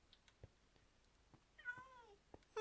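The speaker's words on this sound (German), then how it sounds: "wo es da so schön Miau macht" A Minecraft cat gives one clear, drawn-out meow near the middle of the stretch, with faint scattered clicks and soft taps around it in an otherwise quiet game scene.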